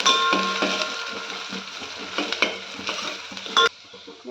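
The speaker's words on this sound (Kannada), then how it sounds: "ಸಾಸಿವೆ ಬೆಳ್ಳುಳ್ಳಿ ಈರುಳ್ಳಿ ಕರಿಬೇವು ಹಾಕಿ ಚೆನ್ನಾಗಿ ಫ್ರೈ ಮಾಡಬೇಕು" Mustard seeds, garlic, onion and curry leaves fry in hot oil in a pan, a dense crackling sizzle close by with regular stirring scrapes and a metallic clink near the end before it quiets.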